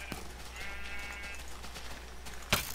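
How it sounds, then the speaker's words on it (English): Minecraft sheep bleat while being sheared: a drawn-out wavering baa rises over steady background noise, with a soft tap before it and a sharp click near the end. "I'm just going to shear me some sheep."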